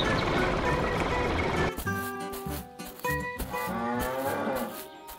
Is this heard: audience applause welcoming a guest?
no